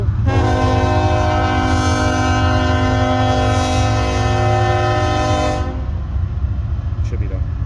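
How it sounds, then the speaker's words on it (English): A passing train sounds its horn in one long, loud, steady blast that cuts off after about five seconds, leaving rumbling rail noise beneath. "it's our friend the train"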